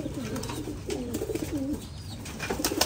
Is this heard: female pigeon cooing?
yes